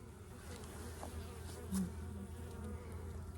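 Honey bees buzz steadily around a hive fitted with a frame feeder of sugar syrup, a low continuous drone close by with no talking.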